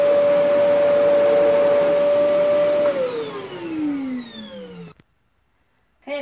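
A Vax Power Stretch Pet upright vacuum on carpet runs with a loud, close whine, then spins down with a falling pitch and cuts to near silence before a brief restart.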